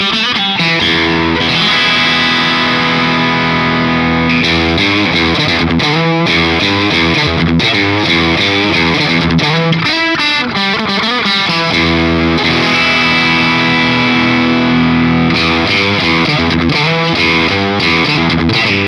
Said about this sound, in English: Here are some clips of 3 different guitars played through the bridge pickup. Same riff, same signal chain, the only difference is the guitar.